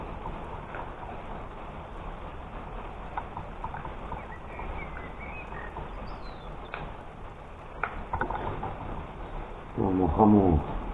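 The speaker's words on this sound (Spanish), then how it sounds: "Está lloviendo, señores." Steady rain patters outdoors as a soft continuous hiss with scattered drops, and someone talks briefly near the end.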